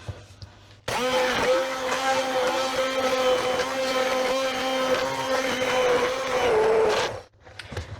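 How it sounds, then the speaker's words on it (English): An immersion blender whirs to life after a second of quiet, buzzing loud and steady for about six seconds as it purées tomato and bean soup, then cuts off, with a short whir trailing after. "To the immersion blender, which is literally just right here."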